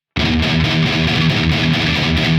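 Dense, heavily distorted electric guitar chugging a rapid riff of fast 16th-note triplets, loud and continuous after an abrupt start.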